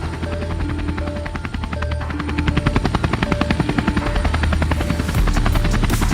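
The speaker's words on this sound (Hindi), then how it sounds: "मिस्टर मीट अपने हेलीकॉप्टर को एक ही जगह पे उड़ते हुए छोड़ देता है" A helicopter hovers in place in an animated horror story, its rotor chopping in a fast steady pulse with a droning engine, loud and constant, growing slightly stronger midway.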